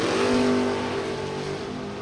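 A Camaro and another drag car scream past the finish line at a drag strip, a loud sustained engine roar that drops in pitch and fades slightly as they pass by.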